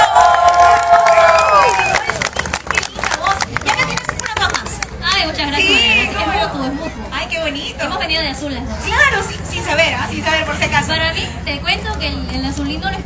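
At an outdoor festival concert, a large crowd cheers and shouts after a song fades out, a dense, loud roar of voices with children's calls and scattered clapping mixed in.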